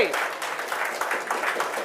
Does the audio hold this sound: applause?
yes